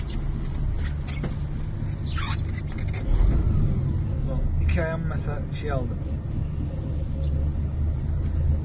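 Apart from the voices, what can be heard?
truck engine running after being started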